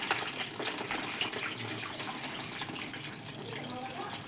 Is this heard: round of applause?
no